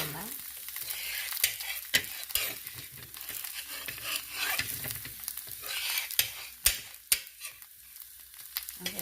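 Crispy rava dosa roasting in ghee on a hot pan gives a close, steady crackling sizzle, with scattered sharp pops and a few scraping sounds, and no voices over it.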